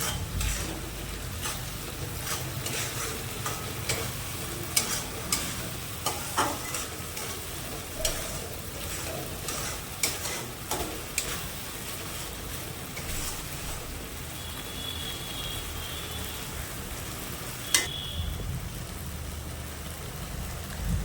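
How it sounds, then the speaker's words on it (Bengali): Poppy seed paste and onion fry in a pan with a continuous loud sizzle, punctuated by close stirring scrapes and clicks, no talking. "এবার পোস্তটা পেঁয়াজের সাথে ভালো করে মিশিয়ে নেবে।"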